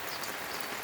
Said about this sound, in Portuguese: E essa chuva é ótima.